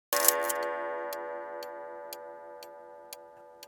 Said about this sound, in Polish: w tle cały czas brzmi tykanie